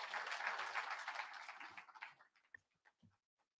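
An audience claps for the president at a union gathering, a burst of applause that fades and thins to a few scattered final claps.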